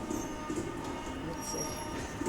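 Automatic pallet stretch-wrapping machine in a warehouse, its wrapping carriage moving upward with a steady, continuous mechanical hum and whir, with faint clicks and squeaks throughout.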